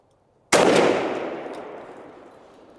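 A single close, loud blast from a turkey shotgun firing TSS shot in a 5-6-7 blend, a sharp crack that rolls off into a long fading outdoor echo.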